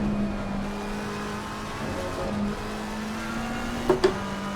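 A McLaren 720S GT3 race car in Assetto Corsa Competizione holds a steady engine drone, then gives two sharp throttle blips near the end, heard alone without talk.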